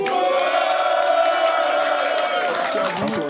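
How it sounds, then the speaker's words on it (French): A crowd at a rap performance in Lyon cheers for the artists, a loud, sustained wall of shouting and whooping voices that holds steady, then breaks up near the end. "Un tonnerre d'applaudissements pour les artistes."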